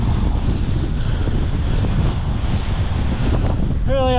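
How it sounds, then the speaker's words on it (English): Strong, steady wind roars across the microphone while parawinging on open water, with waves and spray beneath, loud and unbroken throughout. "given the strength of the wind"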